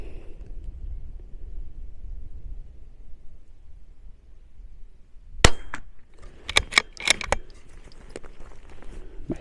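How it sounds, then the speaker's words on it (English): Rifle shots fired at targets on an outdoor range, several sharp cracks: one loud report followed by a quick cluster of shots and a few fainter ones, with quiet ambient noise between. "Let's shoot that upper left or upper right red square, upper right corner of it."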